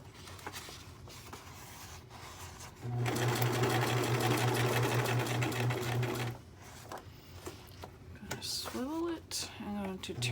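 Sewing machine stitching a writer's journal, a steady close whir for about three seconds between quieter handling noises, then a short burst of shuffling as the work is turned, with a voice talking nearby.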